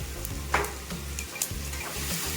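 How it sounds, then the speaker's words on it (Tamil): Mustard seeds hit well-heated oil in a pan and sizzle steadily, with a few sharp pops and stirring scrapes over a low continuous fry, close and fairly quiet. "எண்ணெய் நல்லா காஞ்சதான் கடுகு சேர்த்துக்கிறேன்."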